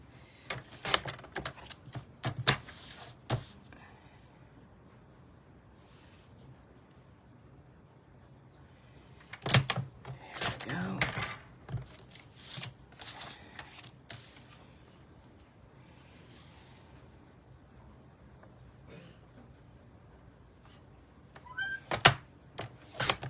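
Paper trimmer slicing the corners off a card: sharp, scraping cuts in small clusters, separated by long quiet stretches of handling, close and moderately loud.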